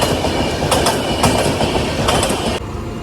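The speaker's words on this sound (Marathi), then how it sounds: "तर आपली ट्रेन आलेली आहे आलेली आहे आपली ट्रेन" Train pulling into a crowded station platform, loud and close, with rhythmic clickety-clack of wheels over rail joints and bursts of metallic screech before the noise drops off near the end.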